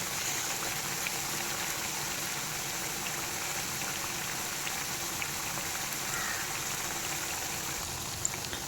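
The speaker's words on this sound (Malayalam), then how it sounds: "നന്നായിട്ട് എണ്ണയൊക്കെ ചൂടായി തിളച്ച് വന്നപ്പോഴത്തേക്കും നമ്മുടെ പരത്തി വെച്ചതൊക്കെ ഇതാ ഇട്ട് കൊടുത്തു." Rolled dough for kuzhalappam bubbles in hot oil over a high flame, a steady, even, fairly quiet crackling fizz that holds unchanged throughout with no speech.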